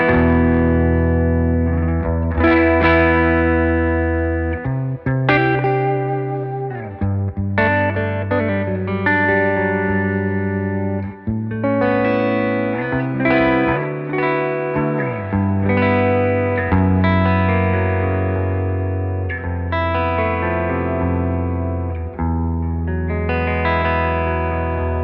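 Shergold Provocateur electric guitar on a '59 neck pickup with a warm, effected tone plays a continuous run of chords and picked notes, steady and fairly loud throughout.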